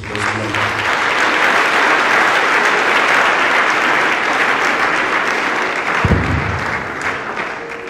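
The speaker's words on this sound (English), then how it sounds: "Please, let's give a sound clap to Jesus" A conference congregation claps in a full, steady burst of applause that holds for several seconds, with a brief thump near the end before the clapping thins out.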